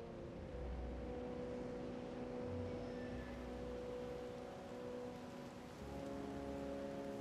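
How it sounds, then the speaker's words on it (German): Steady rain in the dinosaur park game Jurassic World Evolution, a soft continuous hiss of falling drops under low ambient park hum and a few faint tonal game sounds. "Oh, jetzt fängt es auch noch an zu regnen."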